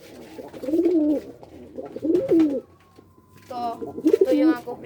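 Pigeons cooing up close in repeated low, throaty phrases, several distinct rounds of cooing with short pauses between, while a person speaks faintly in the background.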